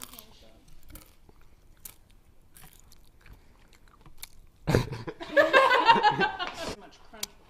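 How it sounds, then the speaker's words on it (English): Crunchy bites into fast-food chicken fries, a loud burst of crisp crunching close to a microphone, followed by chuckling, after a quiet stretch with soft voices. "much crunch within a chicken fry."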